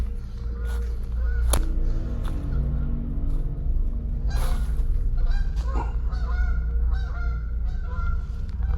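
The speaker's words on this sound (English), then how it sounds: "I didn't expect there to be like geese" Geese in a forest honk repeatedly and loudly, their calls overlapping in irregular bursts over a steady low rumble.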